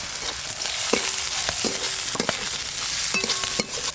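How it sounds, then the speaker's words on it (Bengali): Chopped onion, garlic, ginger, carrot and capsicum stir-fry in white oil in a wok, a close steady sizzle broken by several sharp scrapes and clanks of a spatula, with no talking. "কড়াই দেব সাদা তেল, প্রথমে দেব পরিমাণ মতো পেঁয়াজ কুচি, রসুন কুচি, আদা কুচি, গাজর আর দেব ক্যাপসিকাম।"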